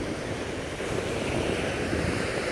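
Ocean surf rolls continuously, a dense wash of breaking waves mixed with wind buffeting the microphone, steady and loud with no voices.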